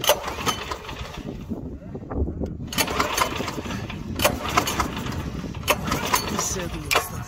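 Neva walk-behind tractor with a fuel-flooded spark plug well, its small engine sputtering to a start and running with uneven bursts, heard under intermittent talk.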